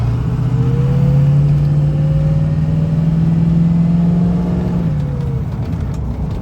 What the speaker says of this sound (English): right now we're going up this hill road. You know, kind of simulate some load on the engine